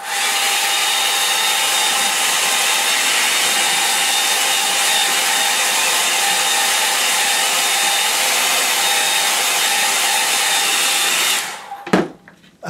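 A hair dryer blows over a watercolour painting, a loud, steady, close whoosh with a faint tonal whine that runs unbroken for about eleven seconds before cutting off with a short knock.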